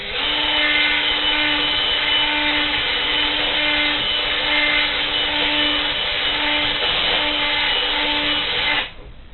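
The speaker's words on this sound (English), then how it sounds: "you got a power drill with a spatula on the end of it" A cordless power drill fitted with a spatula stirs 21-grain porridge pudding, giving a loud steady motor whine with a constant pitched hum that runs for about nine seconds and then cuts off abruptly.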